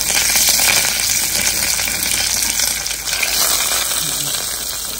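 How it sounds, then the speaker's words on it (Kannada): Tempering of asafoetida and curry leaves spluttering in hot oil for a cooling tambuli, a loud, continuous crackling sizzle with dense popping that stays close and steady throughout. "ಒಗ್ಗರಣೆ ಚೆನ್ನಾಗಿ ಚಟಪಟ ಅಂತ ಸಿಡಿಯೋದಕ್ಕೆ ಸ್ಟಾರ್ಟ್ ಆದಮೇಲೆ"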